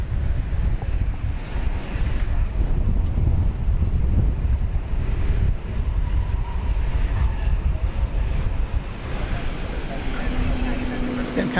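A plane landing at DFW Airport makes a continuous broadband roar, heavily buffeted by outdoor wind noise on the microphone, and the roar shifts slightly in tone toward the end.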